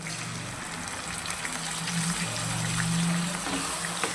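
A thick ground onion and tomato paste is poured into a pot of simmering mutton kuzhambu, giving a steady close-up gush and trickle over a low bubbling hum.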